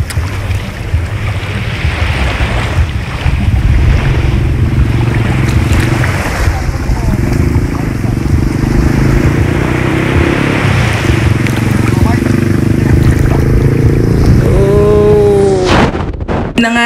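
Ocean waves rumble and wash steadily at a beach in Binmaley, Pangasinan, with wind buffeting the microphone and a brief squeaky sound near the end.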